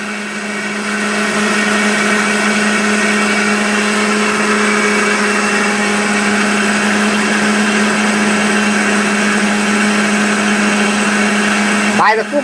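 An electric multi-cooker running: a loud, steady, even motor hum that holds without rattles or knocks for about twelve seconds, with someone talking over it.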